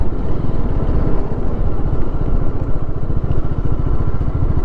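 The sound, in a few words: motorcycle riding on a slippery road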